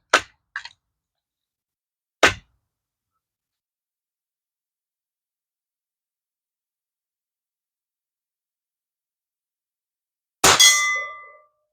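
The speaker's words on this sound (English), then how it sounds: "I think that earns us the right to ring the bell" A Crosman 362 air rifle pellet strikes a metal bell target, a sharp bright clang with a short ring, then another clang after a pause and a final louder ring that decays slowly; long silences between hits.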